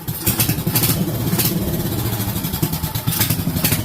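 A motorcycle engine with a newly installed carburetor runs close by, a steady, rough, loud putter with uneven firing throughout.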